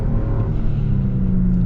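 A Lexus GX550 engine pulls under acceleration as a steady, loud low drone, heard briefly and with no talk.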